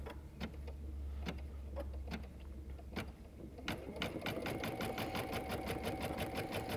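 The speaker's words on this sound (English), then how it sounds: "So I'm gonna have the placement stitch for the rest of her arm." A computerized embroidery machine sews a placement stitch on a quilting appliqué design, first with scattered, separate needle clicks, then breaking into a fast, steady mechanical stitching rhythm that runs close and clear to the end.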